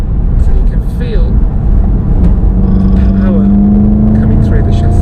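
VW Golf GTI pulling hard in third gear, a deep engine note rising in pitch as it accelerates, heard from inside the cabin with someone talking over it.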